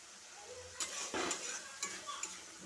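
Food is stirred and sautéed kosha-style in a frying pan, with quiet scraping strokes of a utensil against the pan over a soft, steady sizzle, a few sharper clinks standing out.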